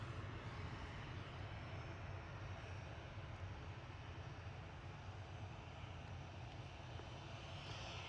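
An EasyJet Airbus A320neo airliner arriving from Geneva roars with a broad, steady jet rumble heard from a distance at the airport, holding an even level throughout.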